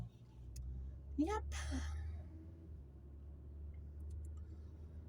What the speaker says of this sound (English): So we're driving to work.